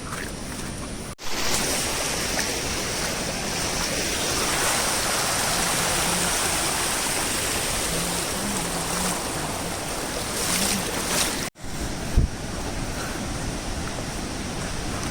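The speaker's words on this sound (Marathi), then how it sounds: "हे बघा पूर्ण डोंगरावरचं पाणी खाली उतरते." Waterfall with water rushing down from the hills after rain, a continuous loud broadband roar heard up close, steady throughout with brief breaks and a short knock near the end.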